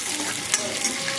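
Talimpu tempering frying in a pan, a steady close sizzle with brief stirring scrapes over about a second, with no talking.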